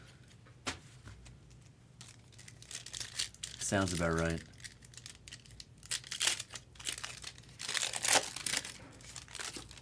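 Foil packs of 1994 Upper Deck SP baseball cards crinkle and tear in scattered bursts as they are opened, close and fairly loud, with a person talking over much of it.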